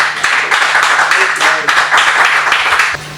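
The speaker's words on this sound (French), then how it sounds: "Un tonnerre d'applaudissements pour lui." A French poetry slam audience claps and cheers for a competing poet, dense applause filling the whole stretch at steady loudness before easing slightly at the end.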